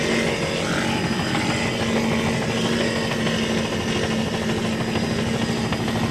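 Racing powerboats with outboard engines roar at full throttle in a steady, loud, buzzing drone with a constant pitch, heard alone without talk.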